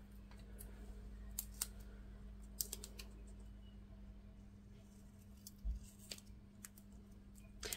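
Scissors snip through a printed paper chocolate wrapper, cutting it in half with a run of quick crisp clicks and rustles over a low background hum.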